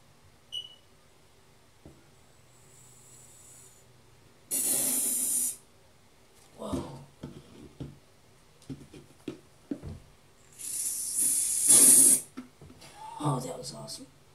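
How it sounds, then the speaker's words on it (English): Two loud bursts of body spray hiss from an aerosol can, one short and one longer, with a person talking between and after the sprays. "It's body spray."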